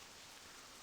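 Steady rain in Stranglethorn Vale, a jungle zone in the video game World of Warcraft, a soft continuous hiss of falling drops with no voices over it.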